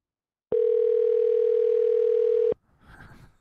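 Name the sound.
telephone ringing on a call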